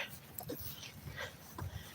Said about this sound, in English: he is a wonderfully happy, energetic, and excitable dog